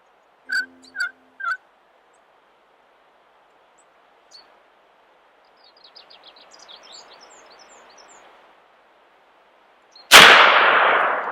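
A wild turkey calls during a hunt with three sharp gobbles, followed by a brief call and a stretch of soft clucking. A sudden, loud gunshot then cracks up close and dies away in a long rumble.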